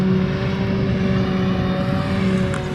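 A Cloth Jaguar 960 engine, an upgrade over the 940 with about 25 extra horsepower, drones steadily with a loud, continuous low hum and a constant tonal whine, unbroken throughout.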